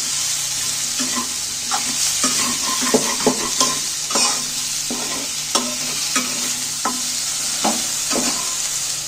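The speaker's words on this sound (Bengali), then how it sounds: "এখানে পেঁয়াজ আর কাঁচা লঙ্কা কুচো দিয়ে দিন। এইগুলোকে একটু নাড়তে থাকবো।" Chopped onion and green chilies fry in a pan with cabbage, a steady sizzle running under repeated scraping stirs of a utensil at irregular intervals, close and clear with no talking.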